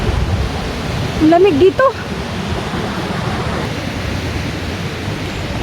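Steady broadband rush of a river flowing through the Tordai-hasadék gorge in Romania, loud and continuous, with a short spoken phrase heard over it near the start.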